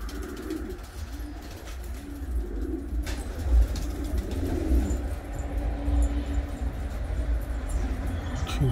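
Pigeons at a water bath in Gaziantep, with steady cooing and wing and water fidgeting under a continuous outdoor rumble, close and moderately loud throughout.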